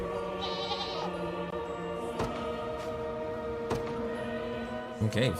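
Goats bleat repeatedly in the video game Unicorn Overlord, several cries overlapping with music and game sound effects, with a few soft thumps and clicks mixed in.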